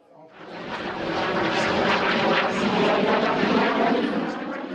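Airliner flying past low at an air show for the low-cost airline Mango, a loud engine roar that swells in, holds strong and slowly eases away.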